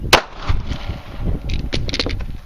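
A Kel-Tec PF-9 pistol fires one sharp, loud shot at the start during a speed target drill, followed by clatter and handling noises at close range.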